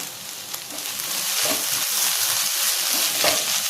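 Green chili and curry leaves stir-frying in a pan for a soya chunk dry roast, with a steady hissing sizzle and a few scraping stirs of a spoon, close and alone without any talk.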